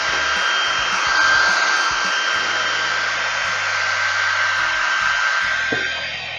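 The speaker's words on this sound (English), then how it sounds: "hair dryer time." A hair dryer blows steadily to dry acrylic paint on a moccasin paperweight craft, a loud continuous close whir with a constant tone that tapers slightly at the end.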